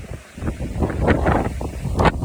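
Strong gusty wind buffeting the microphone outdoors beside an old church, a loud roaring rumble that swells and eases in uneven surges with no voice over it.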